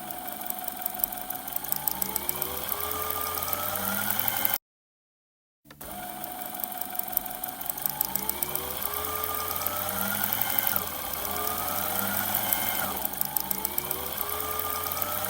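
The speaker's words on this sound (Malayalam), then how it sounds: "മാർക്കിങ് കറക്റ്റായിട്ട് റൗണ്ടായിട്ട് നമ്മൾ തയ്ച്ച് കൊടുക്കുന്നുണ്ട് കേട്ടോ" A sewing machine stitches a dress along a marked line, its motor whirring steadily with rapid rhythmic needle clatter and rising pitch as it speeds up, briefly stopping midway before resuming, close and alone.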